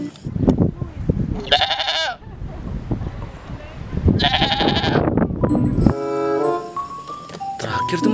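A goat in a video game bleats twice in wavering, nasal cries, separated by a person talking, followed by electronic game chimes and tones.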